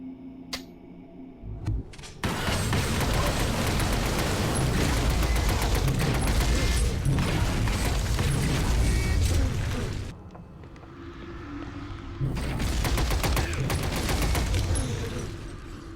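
A deployed turret in a video game fires sustained bursts of rapid gunfire, loud and dense for most of the stretch, pausing briefly near the end before resuming, with mechanical clanks at the start and no talking.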